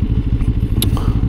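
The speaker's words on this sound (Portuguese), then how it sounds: "a sonoridade do motor é muito boa" A 2024 Benelli TRK 702 motorcycle's engine idles and burbles close up, a low rhythmic pulsing throb with a light clatter and a brief click partway through.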